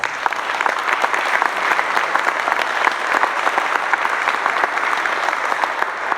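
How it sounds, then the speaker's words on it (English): An audience at a district supervisor candidates' accountability assembly breaks into steady, dense applause, a continuous wash of many hands clapping at even loudness throughout with no voices over it. "Give yourselves a round of applause."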